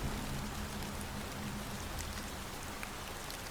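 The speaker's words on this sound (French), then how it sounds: "mélangé au bruit de la pluie" Steady rain falling, a dense, even hiss of drops across the whole stretch with a faint low hum underneath and no voices.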